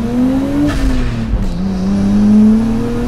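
A car's engine revving hard during a drive, a loud steady drone that rises in pitch, dips briefly as a gear changes, then climbs again.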